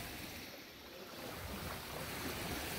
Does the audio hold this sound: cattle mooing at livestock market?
no